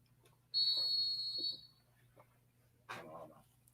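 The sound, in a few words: whistle blowing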